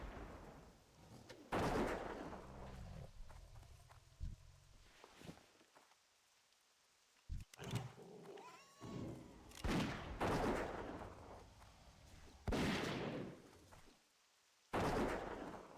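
Hunter's gun firing in World of Warcraft: The Burning Crusade, a few sharp game shots and impacts mixed with broad bursts of sound, separated by short quiet gaps.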